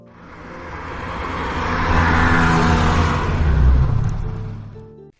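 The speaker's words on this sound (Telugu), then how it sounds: "కారు సాఫీగా వెళ్తుండగా" A car cruises steadily along a road, its engine hum broad and continuous, swelling slightly toward the end before cutting off, carrying a family to a relatives' wedding.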